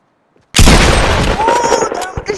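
A shotgun blast from a mobile shooter game bursts in suddenly at full loudness after a moment of near silence, leaving a dense, roaring, crackling tail that fills the rest of the moment.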